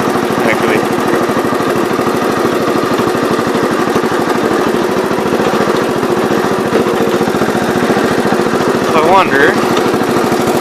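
A 1970 408 riding mower running while mowing: a close, steady, loud mid-pitched engine drone with fast rhythmic pulsing that holds constant throughout, while someone speaks briefly over it.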